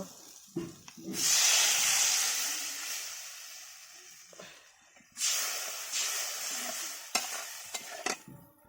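Water poured into a frying mango sour curry sets off loud, close hissing and sizzling in two long bursts, with stirring and clattering in between and no talking.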